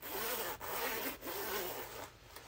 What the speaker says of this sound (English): there's a bit of ASMR, fantastic zip action for you there